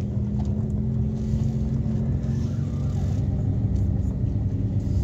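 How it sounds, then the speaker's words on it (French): A Renault R11 GTX pulls away using only the clutch, its engine giving a steady, close, low rumble that holds even and unbroken with no clatter. "Ah, je démarre à l'embrayage."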